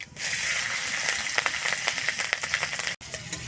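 Chopped green chillies frying in hot mustard oil in a village kitchen, a steady soft sizzle with small crackling pops throughout, fairly faint and unbroken except for one brief dropout.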